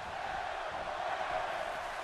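A video-game wrestling arena crowd roars steadily for Daniel Bryan during a WWE 2K18 Raw match, a dense, constant wash of cheering with no breaks.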